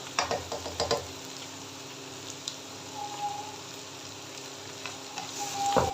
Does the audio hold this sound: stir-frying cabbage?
yes